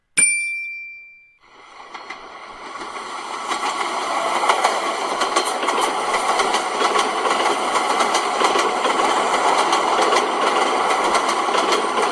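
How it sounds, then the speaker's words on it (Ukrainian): A passing train with rattling wagons, opening with a brief bell-like ding before a loud, continuous rumble and clatter of cars that holds steady and close throughout. "потяг."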